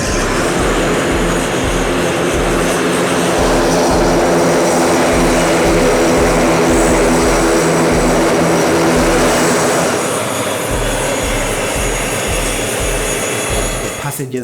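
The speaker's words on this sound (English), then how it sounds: "film the landing and the departure of the plane" A propeller airplane landing at an airport, its engine a loud, steady drone with a pulsing low throb that holds close and strong throughout, easing slightly near the end.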